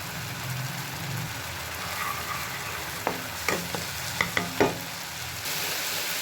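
Ground tomato paste sautéing in a pan for peas pasta, a steady low sizzle with a few sharp scraping clicks of a spoon stirring near the end, no voices.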